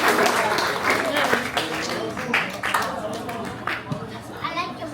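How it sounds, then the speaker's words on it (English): Applause from a birthday party crowd, a 21st birthday and farewell celebration, steady clapping throughout with crowd chatter and voices mixed in. "Please, another round of applause to our Timoteo family."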